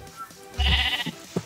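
Sheep bleating in a Minecraft-style block-building video game, one loud drawn-out bleat followed by a couple of shorter, quieter calls.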